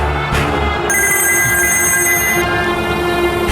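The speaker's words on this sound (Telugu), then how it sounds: "వీరభద్రం గారే ఫోన్ చేస్తున్నారు." A telephone rings in a Telugu TV drama scene, a steady electronic ringing tone that starts partway through and holds for about a second and a half over a dense background bed, with no voices.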